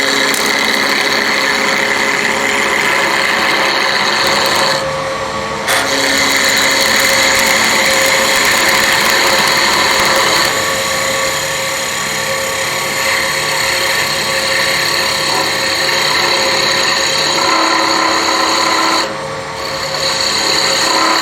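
Wood lathe spinning a spindle blank while a gouge takes roughing cuts to shape it into a long slender cone for a finial, a steady loud whirring scrape with a few brief pauses where the tool lifts off.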